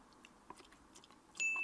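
A homemade french fry bitten and chewed up close, giving a few soft, short crunches spread over under two seconds, followed by a brief steady electronic beep near the end.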